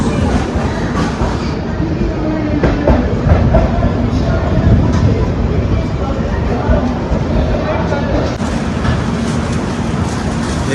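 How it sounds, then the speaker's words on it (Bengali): The 12073 Jan Shatabdi Express pulls away from Kharagpur on its Howrah to Bhubaneswar run, a steady loud rumble of rolling wagons with faint clickety-clack of the wheels and some speech babble mixed in throughout. "খড়গপুর ছেড়ে এ বেরিয়ে গেল আমাদের one two zero seven three"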